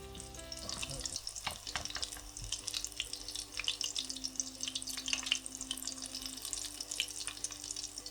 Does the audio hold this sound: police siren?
no